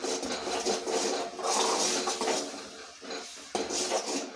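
Coconut stirred into hot jaggery syrup in a pan for jackfruit holige, giving continuous scraping and clinking of a spoon against the pan, fairly close and steady with no talk.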